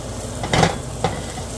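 Steak and onions with mushrooms cooking in a frying pan, stirred and flipped with two quick scraping tosses over a steady sizzle, close by, no talking.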